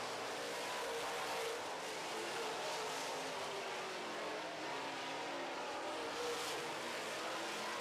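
Late model race cars, including a 2012 Victory Circle chassis, roar around a track during a heat race, a continuous broad engine drone heard from a distance with swells as cars pass.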